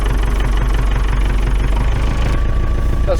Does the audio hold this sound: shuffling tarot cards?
no